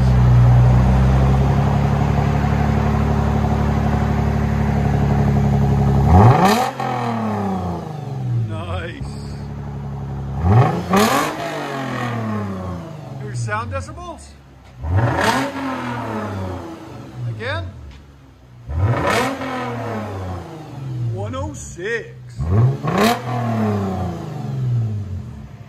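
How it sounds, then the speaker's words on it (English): A 2014 Lexus GS 350 3.5L V6 with Dynomax Bullet mufflers, mid and rear delete, idles loudly, then gets blipped repeatedly, about six sharp revs rising and falling with raspy exhaust, close to the microphone. "Tell us what you guys think of this beautiful sound this Lexus will make."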